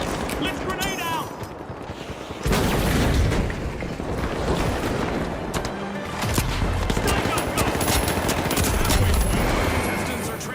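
Grenade explosions and rapid gunfire in an online shooter video game, a dense, loud barrage of booms and automatic fire that swells after a couple of seconds and keeps going, with voices chattering underneath.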